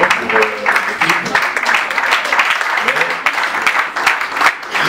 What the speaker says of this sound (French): on peut applaudir pour l'équipe